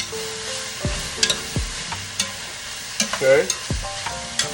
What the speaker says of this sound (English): Stir this around